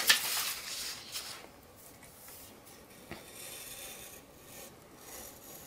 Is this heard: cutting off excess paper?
yes